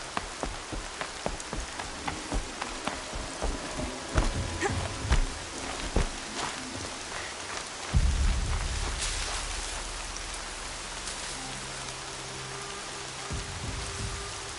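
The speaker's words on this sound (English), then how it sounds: "More rain." Steady rain falling in the Horizon Zero Dawn video game, pattering on surfaces with scattered drop clicks and footsteps, then a low rumble of thunder rolling in partway through.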